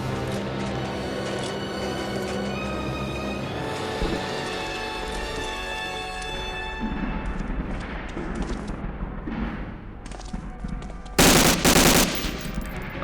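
Rapid machine-gun bursts and gunshots from the video game Medal of Honor Warchest rattle loudly and almost continuously, with a sharp, dense blast of fire near the end.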